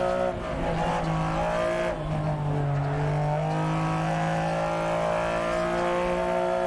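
Six-cylinder rally car engine in the racing game DiRT Rally 2.0, a loud, sustained rasping roar that shifts pitch steadily as the car is driven, with faint tire noise underneath and no talk.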